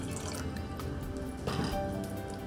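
Water being poured into a cooking pot holding soaked toor dal, three cups of water to one cup of dal, a steady close liquid filling sound with dripping and splashing, without talk.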